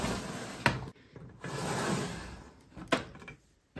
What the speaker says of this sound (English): This is my face palette drawer